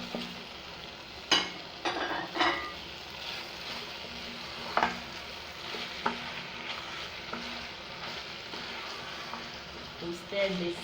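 Cooked kpomo (cow skin) being stirred through a sauce, with soft scraping and clinks of the spoon against the pot coming in scattered bursts over a low, steady sizzle of simmering.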